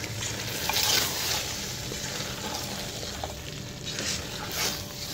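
Chicken frying with fenugreek leaves in a pan and being stirred: a steady, close sizzle with scraping stir strokes and a few brighter bursts, with no talking.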